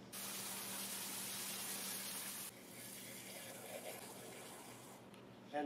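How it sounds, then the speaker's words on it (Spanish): Running water sprays over gravel being rinsed for a biosand filter, a loud steady hiss that drops to a quieter trickle and splashing midway, with a brief louder burst at the end. "Lavaré todo nuevamente hasta que el agua salga limpia."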